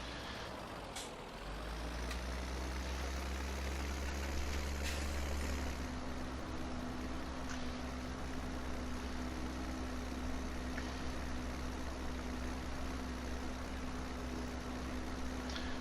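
A tractor in Farming Simulator 17 hauls a slurry (manure) trailer carrying a 700 kg weight, its engine a steady low drone that rises in pitch partway through and holds on, with no talking.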